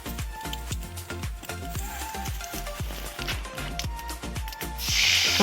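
Black cumin seeds hit hot oil in a wok and sizzle with a busy run of sharp crackles and pops over a steady frying hiss that swells near the end.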